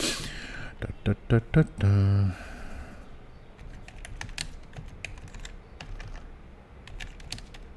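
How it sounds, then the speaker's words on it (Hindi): Someone types on a computer keyboard, giving a few sharp separate keystrokes followed by a longer run of softer, quicker clicking that plays on under light speech. "चलो हम कुछ टाइप कर देते हैं"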